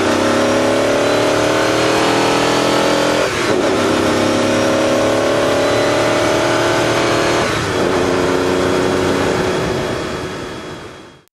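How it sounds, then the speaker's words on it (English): A carbureted Ferrari 512 Berlinetta Boxer flat-twelve revs loudly and close, with sustained high revs dipping twice, around three and seven and a half seconds, then fading away at the end. "This is the Ferrari 512 Berlinetta Boxer. It's the carbureted version, which I like."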